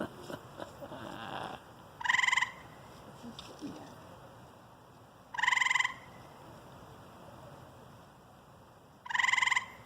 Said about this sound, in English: That's the male frog. He's calling for the female